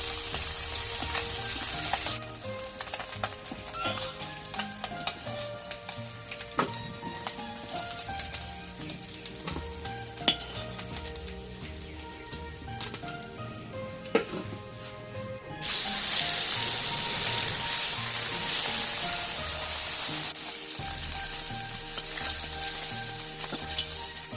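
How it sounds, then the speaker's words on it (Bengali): Bata fish fry in oil in a pan with a continuous crackling sizzle like rain on a surface, which swells louder and hissier partway through. "এখানে সবগুলো মাছ ভাজা হয়ে গেল"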